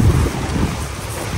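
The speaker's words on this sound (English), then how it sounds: "Now we're getting our second morning rain shower." A morning rain shower falls on a tarp stretched over a teardrop camper, sounding as a loud, close, continuous rushing patter with low rumbling bursts that resemble wind buffeting.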